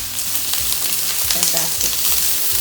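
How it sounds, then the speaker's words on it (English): Onion sizzling in oil in a hot frying pan, a dense loud crackling hiss up close with occasional scraping knocks, no talking. "Get this onion in. Look at the sizzle."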